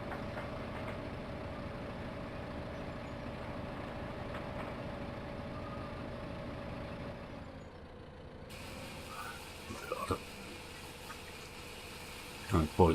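A small tractor hitched to a big farm trailer idles with a steady low drone throughout, the note dropping and changing partway, with a few brief knocks and clatters near the end.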